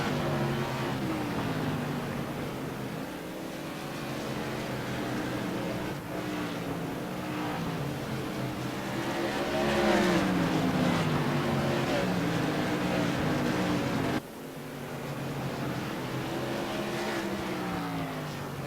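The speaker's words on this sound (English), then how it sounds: "Scott Naslund, your 2nd place light modified driver, through 3 and 4 now" Light modified race cars lapping South Boston Speedway, a continuous engine roar rising and falling as cars pass, with an announcer talking over it throughout.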